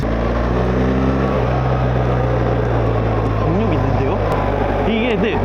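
A BMW GS Adventure motorcycle with an automatic gearbox rides along, its engine a loud steady drone with wind roar, pitch sweeping up and down as revs rise and gears change on their own, while a rider talks over it.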